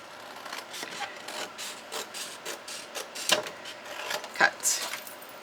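Scissors cut through paper for a handmade junk journal tag, giving a series of short, close snips and rustles in uneven bursts, with a few sharper crisp cuts near the end.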